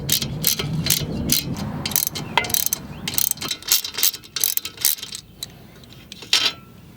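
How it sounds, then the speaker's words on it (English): Ratchet wrench clicking as it loosens a 14 mm nut on the pinch bolt holding a Subaru ball joint, with repeated bursts of close, sharp rapid clicks and metallic clatter through the clip, no talking. "We're gonna loosen that nut and sort of a pinch section in here in the middle"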